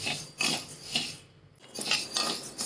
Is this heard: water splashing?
no